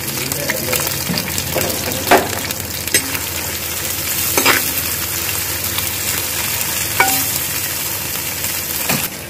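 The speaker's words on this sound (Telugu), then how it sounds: "ఉల్లిపాయలు వేస్తాం. ఉల్లిపాయలు కొంచెం వేగనివ్వండి." Chopped onions frying in a clay pot for village-style pulao give a steady, close sizzling hiss, broken every few seconds by the scrape and clatter of a stirring spoon.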